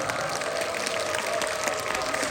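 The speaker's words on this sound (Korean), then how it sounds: "박수 한번 주십시오" An audience at a book concert breaks into steady applause for an arriving guest, a dense wash of many clapping hands that holds at an even level throughout.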